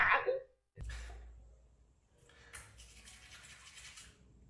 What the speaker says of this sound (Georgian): ვერ ვიტან კბილების გამოხეხოთ.